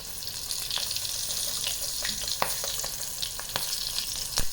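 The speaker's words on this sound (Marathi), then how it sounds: "कढीपत्ता घालायचा आहे दोन चार मिरच्यांचे तुकडे घालायचे आहेत" Curry leaves and chili pieces sizzle in hot oil for a Puneri colocasia curry, a dense continuous crackle and hiss close up with sharp pops and clicks scattered through it.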